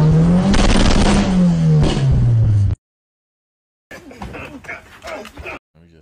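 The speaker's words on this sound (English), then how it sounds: "You want me to rev it?" A car engine revs loudly and close, its pitch climbing and sagging for nearly three seconds before cutting off abruptly; after a brief silence, people talk and laugh.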